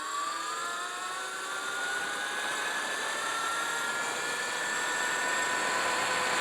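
A Sur Ron Light Bee electric dual-sport bike runs at full throttle on a neighborhood ride, its motor whine climbing steadily in pitch over loud, continuous wind and road rush.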